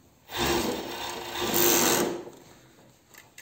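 A sewing machine runs in one short burst of about two seconds, stitching a microfiber underwear lining on the cotton side. The whir is close and steady, swells briefly, then stops, with a few faint clicks after.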